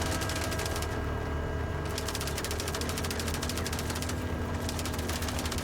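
Powerful automatic weapons in the video game MindsEye fire in a steady, relentless stream of rapid shots, with brief lulls, loud and continuous for several seconds with no talk.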